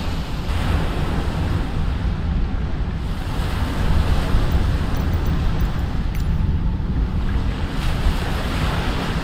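Ocean waves roll and crash under a gusting wind in Microsoft Flight Simulator, over open water on the way to Antarctica. A loud, continuous roar of surf with slight surges, and no voices.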